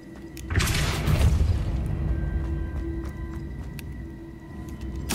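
A Depulso spell cast in a Harry Potter video game gives a loud burst with a booming low thud, then a long rumbling swell that tails off slowly, and a sharp hit follows at the end.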